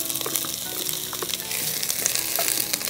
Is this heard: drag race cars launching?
no